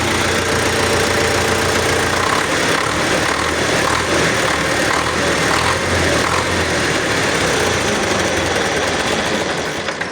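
A YUMZ tractor diesel engine runs steadily after a fuel injection pump repair, a loud close-up clattering chug with a fast knocking rhythm that holds evenly throughout.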